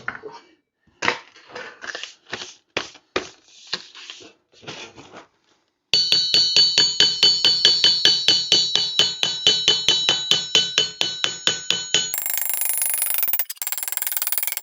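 Steel griddle plate being hammered on an anvil: a run of separate sharp blows with pauses, then a fast steady hammering with ringing metallic overtones, close and loud.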